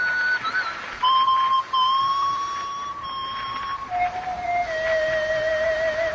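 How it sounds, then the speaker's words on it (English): A man whistles a slow, wavering tune of long sustained notes with short pauses between phrases, clear and fairly close against a quiet background. "It was a man's whistling."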